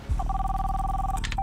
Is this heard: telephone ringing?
yes